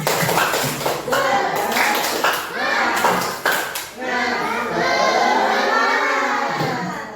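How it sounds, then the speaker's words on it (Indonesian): A group of young children in an Indonesian classroom perform the rhythmic 'tepuk semangat' clapping chant. Sharp claps fall in patterned bursts, mixed with their lively chanting voices throughout. "Tepuk semangat."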